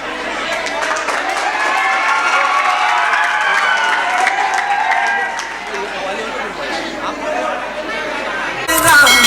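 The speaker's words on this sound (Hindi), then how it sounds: "जोरदार तालियां।" An audience at an Urdu teachers' gathering in a school hall gives loud applause for a student, broad sustained clapping and crowd noise with voices mixed in, tapering before a sharp louder burst at the end.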